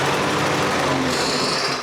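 A small lawn mower engine, just repaired after a no-spark fault, runs loud and steady with a continuous buzzing drone close by, no voices over it.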